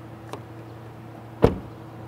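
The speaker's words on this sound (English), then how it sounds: "The doors are heavy, they feel substantial, and they close like a European car." The heavy door of a 2020 GAC GS3 200T swinging shut: a faint light click, then one solid, muffled thud, heard close in a quiet setting.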